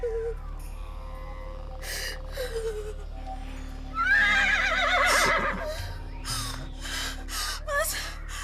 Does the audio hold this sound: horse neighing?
yes